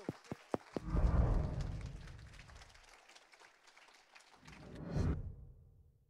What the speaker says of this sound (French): Je vous demande de faire un tonnerre d'applaudissements